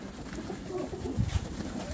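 Pigeons coo softly and repeatedly close by after being fed a clean seed mix, a low murmuring over steady background noise.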